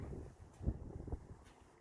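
Gusty wind buffets the microphone in low rumbling bursts, rising and falling throughout with a rustle in the background.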